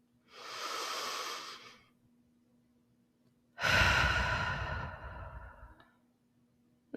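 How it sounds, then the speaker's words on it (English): Two slow, deep breaths during guided breath work, each a long airy inhale or exhale lasting over a second, close and clear against a quiet background hum. "And we're going to take some breaths. So breathe in and out."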